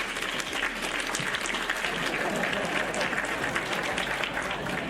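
An audience breaks into sustained applause, a thick, even wash of many hands clapping at close range for several seconds, with faint voices mixed underneath.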